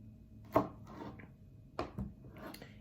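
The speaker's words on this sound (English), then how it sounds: "I'm going to go ahead and cut it up into slices like this." A kitchen knife slices through pineapple on a board, giving a few soft, close chopping thuds and scraping cuts spaced irregularly over a quiet background.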